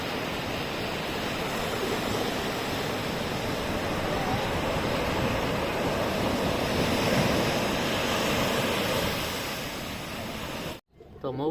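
Sea waves roll in and break on the beach near the Bhavani temple at Mahuva while children bathe, a loud, continuous surging roar close to the shore that cuts off abruptly at the end.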